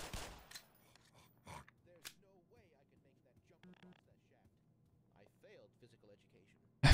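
Gunfire in the video game Black Mesa, a few sharp broadband shots scattered through the clip: loud bursts near the start, around one and a half and two seconds, and right at the end, with quieter game sounds between and brief talk underneath.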